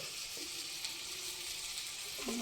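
Broad bean and mutton fry sizzling steadily in a pan, a continuous close hiss of frying with a brief scrape or stir near the end and no talking.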